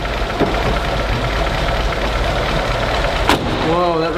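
An abandoned 1976 BMW 2002 four-cylinder idles steadily and loudly up close in a smoky shop, a low even rumble with a brief knock and a voice near the end.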